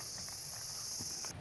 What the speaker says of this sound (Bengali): বাবার এখানে ঝিঝি পোকার ডাক